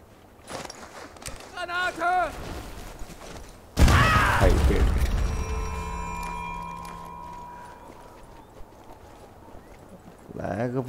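A bomb blast in the Sniper Elite 4 video game, set at the Abrunza Monastery, hits suddenly and loud, then rumbles and fades over several seconds, with earlier short sounds and someone talking.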